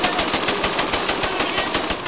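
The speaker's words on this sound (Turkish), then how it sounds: "O anda silahlar patladı," Rapid, continuous bursts of automatic gunfire during a raid on a police station, loud and close, with shots rattling in quick succession throughout.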